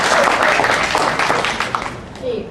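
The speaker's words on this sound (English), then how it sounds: "Let's give her a round of applause." Audience applause after a glass design presentation at a design competition, a dense burst of clapping that is loud at first and thins toward the end, with some voice-like sounds mixed in.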